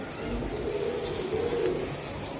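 Pigeons coo steadily at a Bangladeshi pigeon market, a continuous soft, throaty burbling from several birds close by, with no talk over it.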